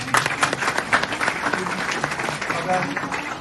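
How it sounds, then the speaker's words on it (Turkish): Crowd applause at the opening of a Turkistani cultural and social aid association building, a lively burst of many hands clapping with audible voices and cheering mixed in, steady for a few seconds. "onları hep beraber alkışlayalım istiyorum"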